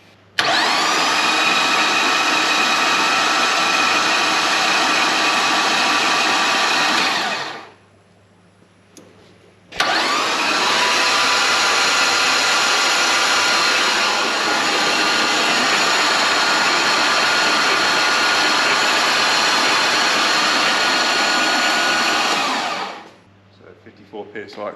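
An L98 engine in an 80 Series is cranked over to build oil pressure, giving two long, steady, loud whirring bursts separated by a short pause, with no clear firing.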